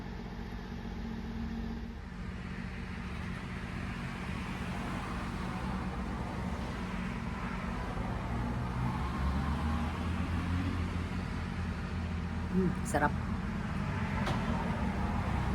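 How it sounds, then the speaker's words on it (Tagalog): Traffic passes on a nearby road in a steady low rumble of engines, with a brief louder vehicle swell near the end, while a single soft word is spoken over it. "Para hindi masyado naririnig yung mga sasakyan na dumadaan."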